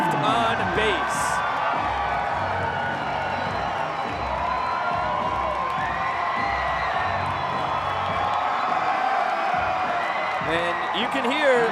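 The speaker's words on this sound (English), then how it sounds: "you can hear the crowd going crazy" A ballpark crowd at a Banana Ball game cheers and roars continuously in the distance, a steady wash of noise under a commentator's talk, with a few whoops rising above it.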